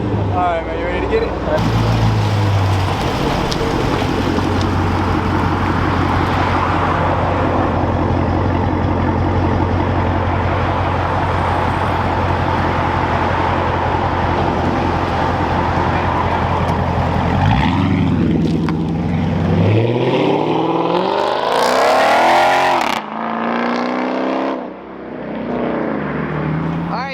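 A Dodge Charger SRT8 with straight-piped exhaust roars loud and close as it revs and drives, a sustained, raspy engine drone that shifts in pitch near the end as the car pulls away.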